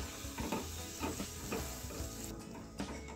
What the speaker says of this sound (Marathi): बघा, मस्त अशा पुऱ्या इथे अशा प्रकारे आपल्याला तळून घ्यायच्या आहेत।